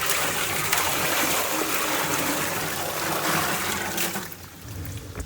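Water from a tap runs steadily into a 5-gallon plastic bucket, a continuous close, loud filling rush with no talk, easing off near the end.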